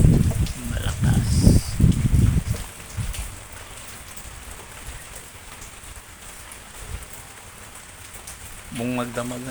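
Heavy typhoon rain from Typhoon Enteng pours down in General Trias City as a steady hiss on surfaces, with a voice speaking over it at first and a brief tonal sound near the end.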